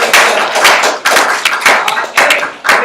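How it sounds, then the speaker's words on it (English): Loud, continuous clapping from a crowd, dense and steady with rhythmic swells, filling the space close by. "everybody give Steph a great round of applause."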